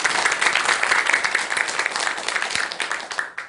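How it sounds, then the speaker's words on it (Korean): An audience applauds at a Buddhist monk's lecture, dense close clapping that holds steady for several seconds and then thins out toward the end. "큰 박수 한번 주시기 바랍니다"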